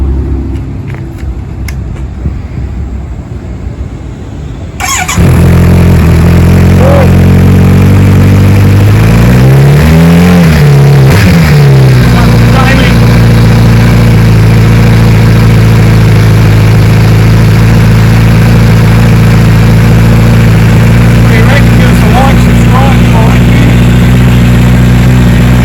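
A new 2023 Kawasaki Z900RS motorcycle engine cranks and fires on its first start, blips through a few revs, then settles into a loud, steady idle up close.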